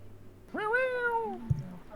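Pet cat beside a desk giving one drawn-out meow that rises and falls, with a soft knock just after.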